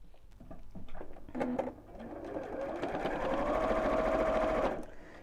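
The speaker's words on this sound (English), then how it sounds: "I'm just going to sew with a 1/4 inch seam allowance all the way down the edge" A home sewing machine stitches fleece with a universal needle along a quarter-inch seam, starting in short bursts with clicks and then running in a steady whirring stretch before stopping.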